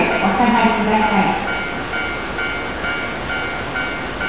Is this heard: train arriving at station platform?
yes